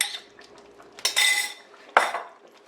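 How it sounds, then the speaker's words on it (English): Seasoned shrimp go into a pot of Caribbean seafood curry, with two sharp metallic clanks of a utensil against the pot and softer clinks and wet shifting in between, close and alone. "Here's where we're going to add that seasoned shrimp to the pot now."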